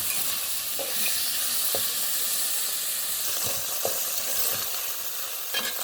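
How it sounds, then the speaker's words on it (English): Seafood fries in a pot for Jamaican stewed peas, a loud continuous sizzle and hiss close up, with a few soft stirring knocks from a utensil scattered through it and no talk. "And we're going to allow this to fry up."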